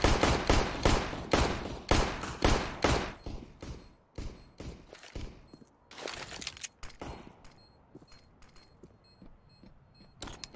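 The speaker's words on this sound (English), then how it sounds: "frags are coming in" Grenades and gunfire in a competitive video game match: a fast run of loud, sharp shot bursts fills the first few seconds, then sparser, fainter pops and blasts follow, with no voices.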